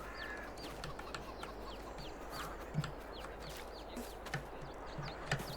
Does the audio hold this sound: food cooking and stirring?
no